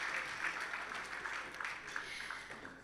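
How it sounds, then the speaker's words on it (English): Applause rises from the audience at the Kruger Centenary Gala Dinner as people leave the stage, a soft, continuous patter of clapping from a distance that is fairly quiet throughout. "Please a round of applause as they make their way off stage"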